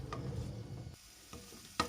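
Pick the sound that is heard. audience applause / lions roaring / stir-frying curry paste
stir-frying curry paste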